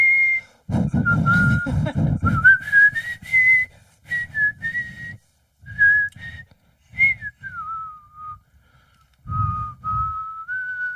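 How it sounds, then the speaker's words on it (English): A person whistles a wavering melody of sustained and gliding tones into a microphone, with loud bursts of wind rumble from breath hitting the mic at the start and in several later puffs, no talking. "Is it impossible to whistle into a mic without the wind?"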